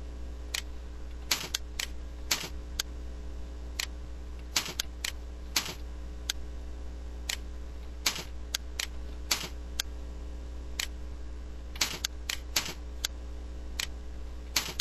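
Computer keyboard keys pressed in short, irregular single clicks and small bursts while drawing leaf shapes in an illustration program, close and crisp over a steady low hum, with no talking.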